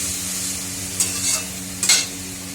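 Hot oil for a Bengali vegetable tempering hisses in a pan alongside steady stirring, with two brief louder sizzle bursts near the middle and end of a short stretch.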